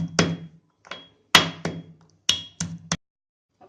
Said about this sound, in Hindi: लहसुन अदरक को हम कूट लेंगे इसमें।